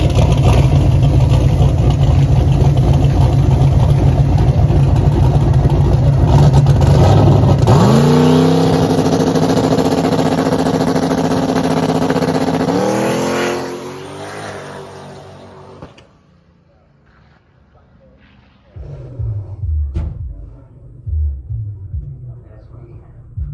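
A race car engine warming up before a test pass, loud sustained rumbling idle, then rising revs that sweep upward before cutting off, followed by quieter engine bursts up close.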